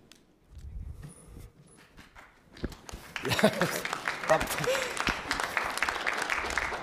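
A conference audience at a wetland and nature conservation event bursts into sustained applause for a talk, dense clapping that fills the hall after a quieter stretch with some talk and shuffling.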